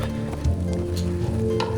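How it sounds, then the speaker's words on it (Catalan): Rain picking up during a storm on a mountain viewpoint route in the Serra de Tramuntana near Valldemossa, a steady close patter on surfaces with a low continuous hum beneath, no talking. "Comença a ploure una mica més"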